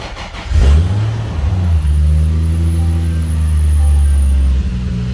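Car engine cranks briefly, catches and starts, then settles into a loud, steady low running rumble up close.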